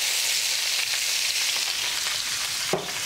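Peppers frying in a hot pan, a loud continuous sizzle with light stirring, and a brief clatter near the end.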